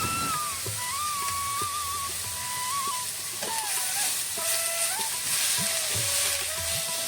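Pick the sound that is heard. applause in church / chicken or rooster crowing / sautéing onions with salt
sautéing onions with salt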